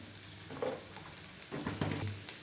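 Spice masala for a paneer curry sizzling in a pan while being stirred, a soft steady frying hiss with light scraping and stirring noises, faint and close.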